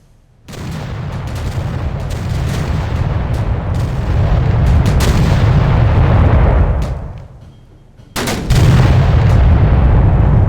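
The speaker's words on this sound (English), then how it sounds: "Listen to the roar of those cannons" Deep, roaring battleship cannon fire in a World War II naval video game booms continuously, heavy and loud, with a brief lull before another thunderous blast of firing resumes.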